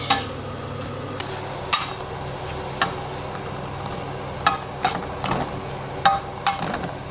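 Mushrooms and cherry tomatoes sauté in a pan with a steady low sizzle, punctuated by repeated sharp knocks and scrapes of a utensil stirring against the pan.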